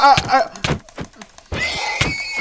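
Horse neighing in Minecraft, a few short whinnying bursts with thumps in between, fairly loud and close, no talking.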